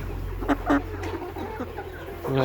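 Layer hens of a Sonali-type cross breed cluck on a poultry farm. There are several short, close clucks, then a louder burst at the end, over a steady low hum of farm noise.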